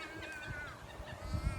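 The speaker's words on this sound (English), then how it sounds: "The birds are yelling." Geese honk repeatedly outdoors, sounding moderately distant and fairly faint, with a steady ambient hiss underneath and no talking.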